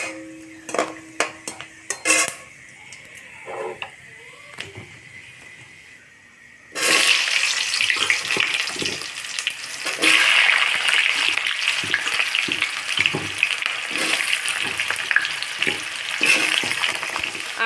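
Dry red chilli and panch phoron hit hot oil and burst into a loud, sustained sputtering sizzle, preceded by a few clinks and quiet handling sounds.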